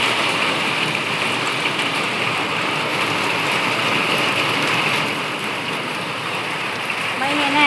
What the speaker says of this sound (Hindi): बारिश शुरू हो गया।